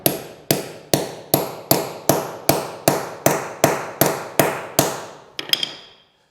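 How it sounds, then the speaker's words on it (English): A setting tool is hammered into a drop-in concrete anchor with about a dozen sharp metallic strikes in a steady rhythm, close and clear, ending in a few lighter taps. "you have to set them in place with this setting tool, and you just gotta hammer down here and it'll lock them in place"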